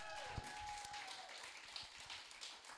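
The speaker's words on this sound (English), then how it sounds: "Clap it up." An audience at a stand-up comedy show in Jersey City applauds a comedian, giving a steady wash of clapping that stays level and fairly distant for a few seconds.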